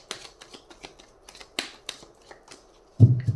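Tarot cards being shuffled by hand, a quick run of light papery riffles and taps close to the mic, ending in a louder low thump as the deck is set down.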